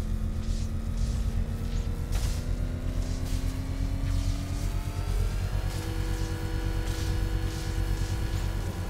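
Engine revving in a video game, a steady droning motor whose pitch slowly climbs and holds, loud and continuous with a few faint clicks on top and no talk.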